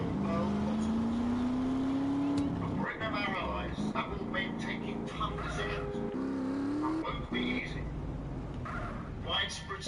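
A car in GTA San Andreas drives with its engine revving, the pitch climbing through the gears and then settling, with some tire and motor noise as someone talks over it.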